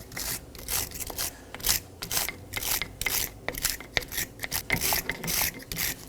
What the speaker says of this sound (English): I'm going to clean the caliper using a wire brush.